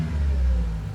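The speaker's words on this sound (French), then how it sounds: "Il a une sonorité particulière ce moteur." A supercharged Audi S5 engine with an X-pipe exhaust gives a deep, steady rumble that swells briefly as if revving, heard close and loud from inside the car with no talk.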